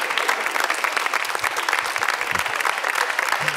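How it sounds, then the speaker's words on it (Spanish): Steady, dense applause from a studio audience at a late-night comedy show, loud and close, with no one talking over it. "Es el aplauso"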